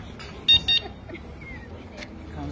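Two short electronic horn beeps from a Fiido D4S folding e-bike sound close by, followed by faint background noise and distant chatter.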